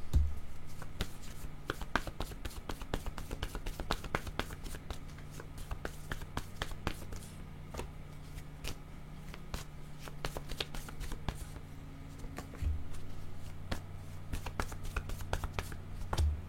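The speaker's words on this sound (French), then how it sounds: "Je vais prendre des cartes mots pour accompagner ces cartes images." Picture and word cards are shuffled by hand for a card reading, a long run of rapid, close riffling flicks in irregular bursts with occasional soft taps.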